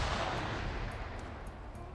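Gunfire in a PvP first-person shooter match, a dense, loud burst of rapid shots with no talk over it.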